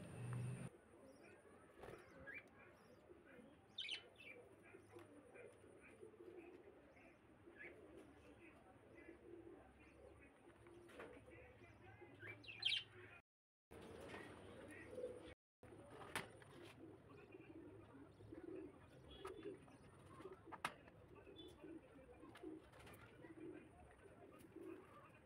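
Pigeons or doves on a farm coo softly while being fed, with scattered chirps and calls at moderate distance over a quiet background, a few brief sharp knocks, and no talking.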